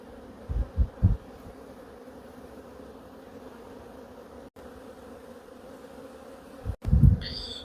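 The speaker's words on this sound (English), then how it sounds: "I'm going to crack this open and see if I can get pictures of the bees shaking." Honeybees in a hive with chronic bee paralysis give a low, steady hum throughout as the box is cracked open, with a few louder thumps and rustles near the start and end.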